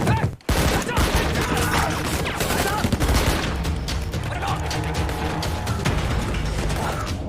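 A sniper team in a hostage-rescue action film opens fire, a dense, loud barrage of gunshots and bursts mixed with crashing and mechanical clatter, running continuously under a narrating voice.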